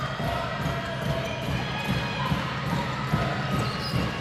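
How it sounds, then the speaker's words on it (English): A Czechia home crowd at a FIBA Women's EuroBasket 2025 basketball game against Portugal keeps up a steady arena roar, with basketball bounces thudding through the noise. "Crowd bringing the noise"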